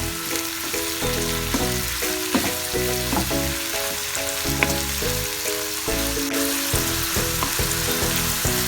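Tomatoes for a biryani masala frying and being stirred in a pan, a continuous close sizzle with intermittent scraping strokes of the spoon across the metal, no voices.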